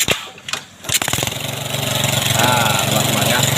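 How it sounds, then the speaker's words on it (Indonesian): A motorcycle engine cranks with a couple of short bursts, catches, then settles into a loud, steady idle close by, its rapid throb continuing to the end. "ini motornya sudah hidup"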